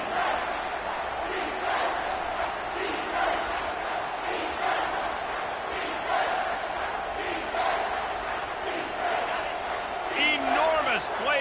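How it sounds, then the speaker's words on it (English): A college football stadium crowd in a video game roars loudly and continuously on a third down, with swelling cheers and shouts, while a commentator talks over it. "3rd down, and this crowd is bringing down the house."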